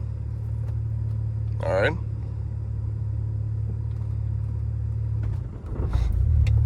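A 2008 BMW 335i with 200k miles pulls away from a dead stop in first gear, a steady low engine rumble that swells as the car moves off, with brief talk near the end.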